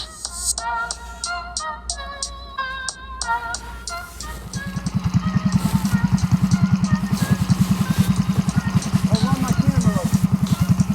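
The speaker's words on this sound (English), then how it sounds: "Man, this thing is ripping. What a mini bike." A Coleman BT200X mini bike with a Predator 212 hemi engine revs in short bursts, then settles into a loud, continuous, throbbing run close by.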